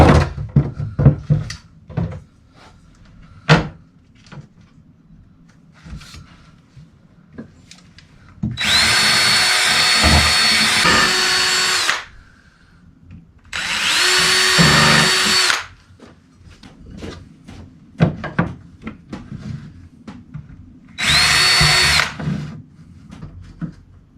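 A power drill bores holes into a found box, three sustained high whining bursts of several seconds each, separated by sharp clicks, knocks and handling clatter, close and with no talking.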